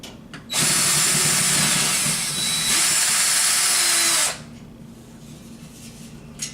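A power drill backs a screw out of an air return grate on a home central air conditioning system, one loud, steady high-pitched whir lasting several seconds before stopping abruptly, followed by quiet room noise.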